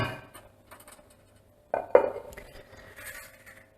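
A pan for an Italian pasta and chickpea dish is set onto a metal flame spreader on a home stove, giving a couple of close metallic clanks and scrapes, followed by faint rattles.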